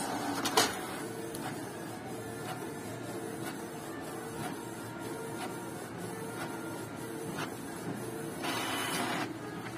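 Canon printer converted to continuous ink printing a test page, a steady mechanical whir with rhythmic clicks and carriage shuttling, close and moderately quiet, no talk.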